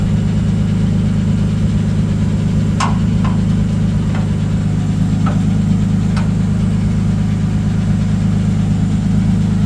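A Nissan D21 Hardbody pickup engine idles with a steady, loud low rumble close by, fitted with a newly installed fuel cell, pump and regulator. A few faint clicks are heard over the even drone.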